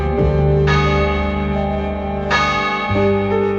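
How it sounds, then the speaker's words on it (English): A castle bell rings out loud and near with deep ringing tones, striking twice in this stretch, each stroke swelling and slowly fading into the next. "Finally, the castle bell struck 9."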